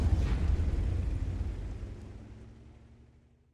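A World of Tanks artillery shell explodes with splash damage: a single loud, deep boom with a broad rumbling burst that decays steadily over several seconds, heard alone.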